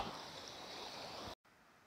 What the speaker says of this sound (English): near this valley there is a huge river